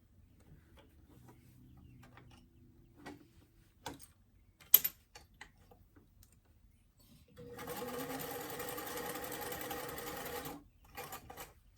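A sewing machine stitching a lined ball-jointed doll dress, heard after a few soft clicks and handling taps as a steady close whirring run of about three seconds, then a short final burst.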